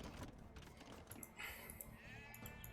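Sheep bleating in Age of Empires II: Definitive Edition, a few short wavering bleats at fairly low level layered over faint game background sounds.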